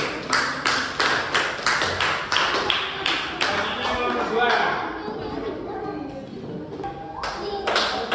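Classroom applause for a student, a run of sharp rhythmic claps from a small group of children, with a teacher's voice speaking over the middle as the clapping briefly fades and then resumes.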